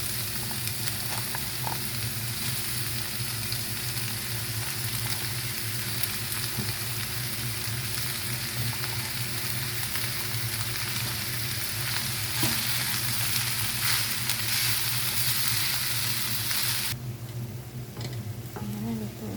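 Carrots and bottle gourd (upo) stir-fry in a pan with chicken, giving a continuous loud sizzle with occasional stirring scrapes and clicks close by.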